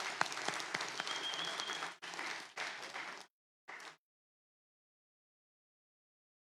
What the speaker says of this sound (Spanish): les pido ahora sí un fuerte aplauso a todas quienes estamos acá